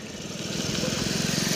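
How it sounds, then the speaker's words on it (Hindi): A Kia Seltos CRDI diesel engine idles with the bonnet open, giving a steady, close, rough mechanical hum with a faint rhythmic knock throughout. "आपको एक बार इंजन साउंड और सुना देता हूँ"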